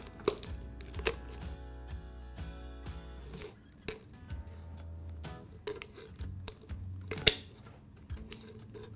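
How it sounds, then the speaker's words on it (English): Sharp snips of kitchen shears cutting through a turkey's backbone, a few distinct clicks spread over the clip, with faint background music throughout. "take your scissors and just take your time, one little snip at a time"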